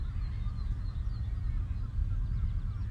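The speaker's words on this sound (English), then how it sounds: "I can definitely hear the seagulls" Seagulls call faintly in the distance outdoors, their cries thin and intermittent over a steady rumble of wind.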